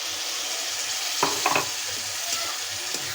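Beef tripe with a blended green chilli, onion and coriander paste sizzles loudly and steadily in a pan after a little water goes in, broken by a few brief stirring clatters.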